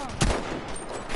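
Gunfire in Battlefield V Firestorm: a sharp, close shot opens the moment and another follows about a second later over a steady rumble of combat noise.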